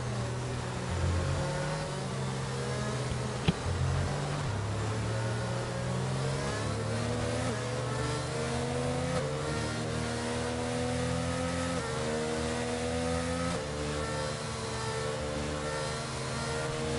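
Racing car engines in the F1 22 video game at Azerbaijan, loud continuous whining revs rising and dropping through gear changes, several cars layered together with no talk over them.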